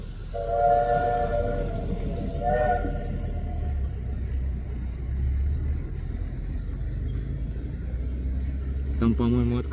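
A train pulls into Sortavala station in Karelia with a long horn sounding near the start, a steady rumble of wagons throughout and a sharp squeal near the end, heard outdoors nearby.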